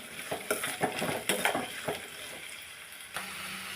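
Ridge gourd pieces fry with chana dal in a pan as a spoon stirs and scrapes in quick repeated strokes over a soft sizzle. The stirring stops near the end, leaving only a quiet hiss.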